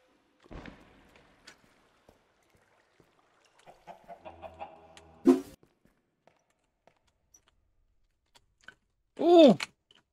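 A Minecraft chicken clucks in short bursts, with a louder squawk near the end, between quiet keyboard clicks and brief game sounds.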